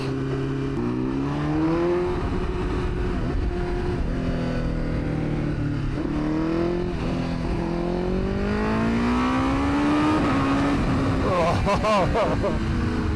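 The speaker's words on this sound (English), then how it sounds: "I am officially riding Toprak Razgatlioglu superbike." BMW WorldSBK factory superbike ridden on track, its engine revving continuously with rising and falling pitch through gear changes, loud and close throughout.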